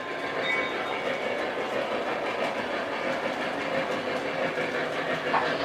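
A Lionel model train runs along its track with a steady, even rumble and faint rolling clatter that continues without a break, and no voices are heard.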